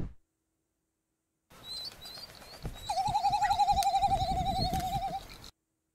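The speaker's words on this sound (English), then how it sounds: "Frigate bird." Frigate bird calling: a brief burst of chirps, then a long wavering, trilling note that carries on steadily over a soft rumbling background, alone with no voices.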